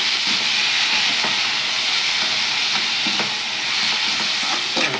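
Onion, tomato and green chilli sauté in oil in a pan for a prawn pepper gravy, producing a loud, continuous close-up sizzle with faint scraping from occasional stirring.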